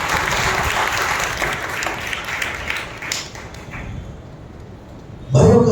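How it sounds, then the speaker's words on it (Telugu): A church congregation claps loudly and steadily during Sunday worship, a dense wash of many hands that thins toward the end before a brief louder burst. "బాగా బిగ్గరగా చప్పట్లు కొట్టి ప్రభువును మహిమపరచండి."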